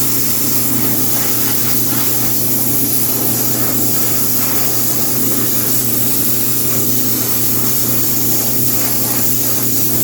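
An aerosol can of spray primer hisses loudly and continuously up close while a coat goes onto a 1/4 scale Samurai Wolverine figure kit, a steady unbroken rush with no talking.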